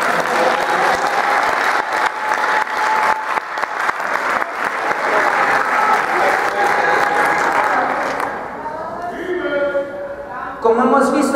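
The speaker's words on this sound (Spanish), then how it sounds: "Démosle un aplauso al Señor." A church congregation claps loudly and steadily in a sustained round of applause that tapers off, followed by someone speaking over the last few seconds.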